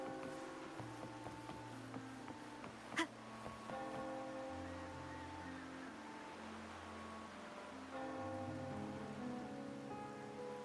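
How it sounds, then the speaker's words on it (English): Rain falls steadily in the video game Wuthering Waves, a soft even patter under looping background music, with one brief sharp knock early on and no speech. "who wants to eat outside in the rain?"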